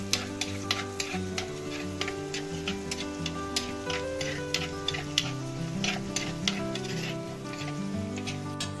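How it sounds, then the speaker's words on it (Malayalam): Green chillies fry in a pan for a varal fish curry, producing a continuous close sizzle dotted with quick, crisp crackling pops throughout. "പച്ചമുളക് ചേർക്കുന്നതിന് നന്നായിട്ട് മൂപ്പിച്ചെടുക്കുക"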